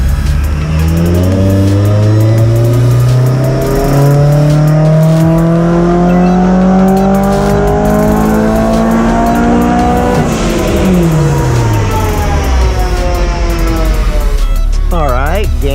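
A supercharged Honda S2000 engine screams through a dyno pull, its loud pitch climbing steadily before dropping off as the throttle closes, with supercharger whine layered on top and a voice briefly heard.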